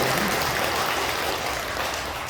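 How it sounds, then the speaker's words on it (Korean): A crowd at a Buddhist temple dharma service claps in a loud, dense burst of applause that fills the moment without letup. "그래서 박수 한번 보실까요?"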